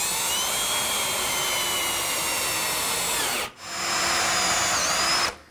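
A power drill drives self-drilling pan head screws into wood while building a wall hung console: a loud, steady high whine that stops briefly, then resumes for a second run before cutting off.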